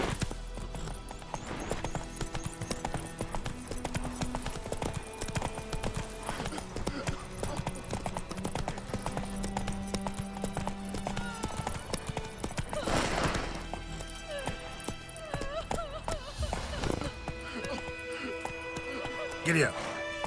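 Horse hooves gallop in The Witcher 3, a steady clip-clop rhythm running throughout alongside game ambience, with snorts and a whinny mixed in and a voice speaking over it.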